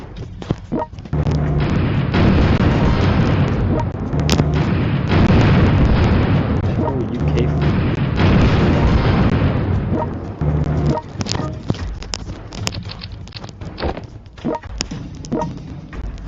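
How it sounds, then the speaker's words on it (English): Airstrike explosions in the World Conqueror 4 war game, a dense run of loud booming blasts and bursts lasting about ten seconds before thinning into scattered pops and softer rumbles. "Take a regular airstrike,"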